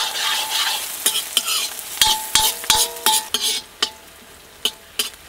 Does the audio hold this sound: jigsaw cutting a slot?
no